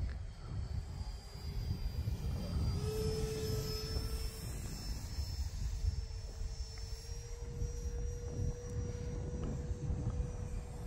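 E-flite Habu SS 50mm electric ducted-fan RC jet airplane flying at around half throttle, a steady high-pitched whine with shifting tones as it passes at a distance over constant wind noise, no talking.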